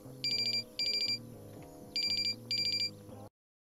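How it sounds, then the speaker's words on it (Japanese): A phone rings in The Sims 4 with four bursts of bright, trilling electronic tone spaced across about three seconds, set over a soft game music bed, with no talking. "あ、僕も電話だ。"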